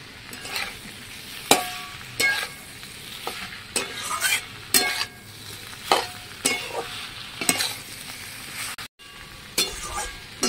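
Soybean chunks stirred through a sizzling spice paste in a pan, with repeated scraping strokes over a steady fry. Each stir lands as a sharp burst at an uneven rhythm, close and fairly loud, with no talking.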